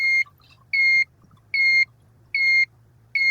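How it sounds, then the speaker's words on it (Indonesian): A temperature-controller buzzer on a household biomass water heater gives five loud, clear electronic beeps of even length, evenly spaced by short gaps. A faint low hum sits underneath. "Terus nyalakan buzzer"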